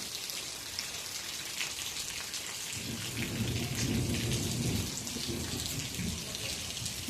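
Rain pours steadily over a rural millet farm while a deep roll of thunder swells in the middle and fades again, the downpour hissing continuously throughout with no one speaking.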